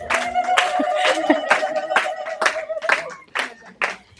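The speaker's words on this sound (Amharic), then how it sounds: "ኧረ እልልታ ጭብጨባ።" At a book launch, an audience gives rhythmic clapping mixed with a high, sustained trilling ululation that wavers above the claps before fading out.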